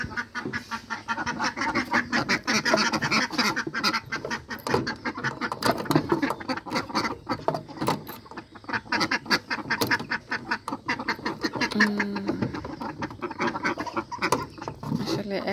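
Ducks being let out of their coop quack constantly in loud, overlapping bursts close by, with other farm animal calls mixed into the busy din.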